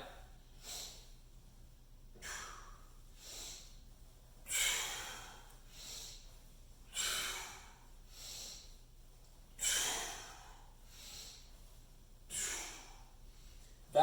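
Slow, breathy exhales during a desk-worker mobility stretching routine, about six soft hissing breaths repeating every two to three seconds, close and quiet against a low steady hum.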